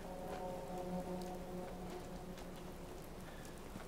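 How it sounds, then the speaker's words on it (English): Steady rain falls in the wasteland of the video game Fallout 4, a soft continuous patter with faint droplet ticks alongside a low tonal hum of game ambience, even and unbroken throughout. "It's kind of hard to tell when it's raining."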